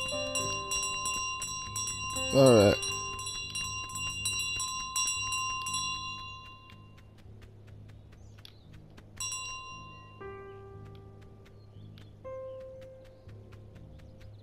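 Bright bell strikes and ringing tones from Untitled Goose Game sound against soft background music, with a short louder burst partway through and a brief spoken word.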